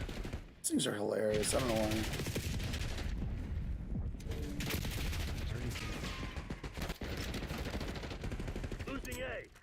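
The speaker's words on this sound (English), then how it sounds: "Oh, goddamn Archangel missiles." Dense game gunfire and explosions from Archangel missiles in Black Ops 6 roar loud and continuous, with bursts and booms layered over someone talking near the start.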